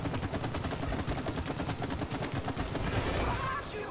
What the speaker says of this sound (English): I'm gonna shoot from behind